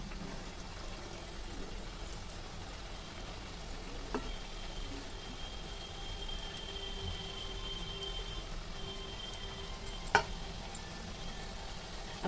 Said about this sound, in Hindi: तो नमक पारे इसमें गर्म ऑयल में डाल देंगे बहुत ही आसानी से